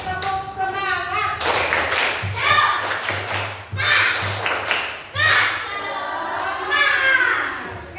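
A primary class of grade 5 children performs a rhythmic spirit clap together, bursts of patterned group clapping mixed with shouted chanting voices, loud and close in a classroom.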